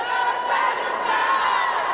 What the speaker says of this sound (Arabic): يعني تشجيع من لاعبات ساندوني للعب وتقديم مستوى واداء